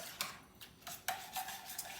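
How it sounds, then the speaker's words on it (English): Pepper jelly being stirred in a pot: a few soft scraping strokes and light utensil clinks against the pot, quiet and close, over a brief low background. "It's just you're standing here stirring."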